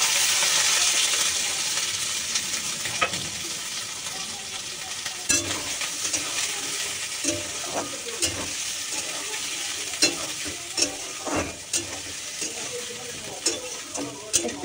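Carrots and beans frying in a mix of ghee and a little white oil, a steady close sizzle with repeated scraping stir strokes and clinks throughout.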